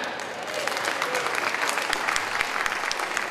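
Loud audience applause at Jakarta Marketing Week, a thick continuous patter of many hands clapping with a few sharper individual claps standing out, no talk over it.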